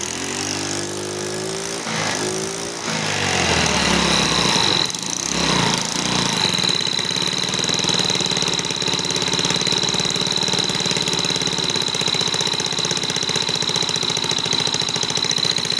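A 139QMB scooter engine, freshly overhauled, starts and idles. It first coughs and rumbles unevenly, then settles into a steady, buzzy, close-up idle with a thin high whine running through it. No one speaks.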